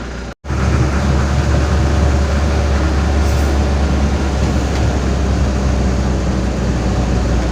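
Train rumbling at Solo Jebres railway station, a loud continuous low roar with steady rolling noise after a brief cut at the start, no speech.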